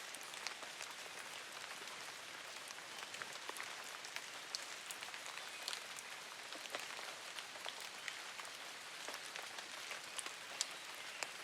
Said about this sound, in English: Gradually, the rain thins.